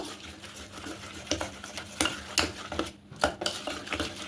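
Ripe palm malpua batter stirred with added water in a bowl, giving irregular scraping and tapping strokes of a spoon against the bowl, moderately close with a low room hum underneath and no talk.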